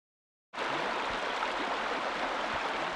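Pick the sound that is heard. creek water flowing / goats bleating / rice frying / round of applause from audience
creek water flowing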